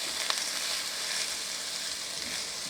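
Garden-fresh garlic and serrano peppers fry in a pan with a soft, steady sizzle and one small pop near the start.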